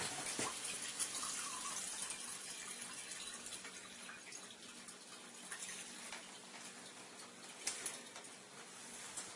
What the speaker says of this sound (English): as we run the water through the machine, we'll be making Kangen water